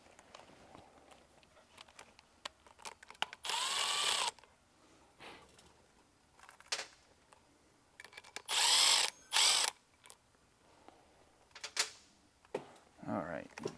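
A power tool backing bolts out of a bushing during a two-speed seal change on a Tilmor 520 tractor, with two short loud whirring bursts and scattered clicks and clunks of handling between them.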